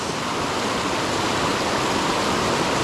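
Creek water flowing in Hibernia Park, Pennsylvania, close by: a loud, steady rushing and burbling wash with no pauses and no other sounds.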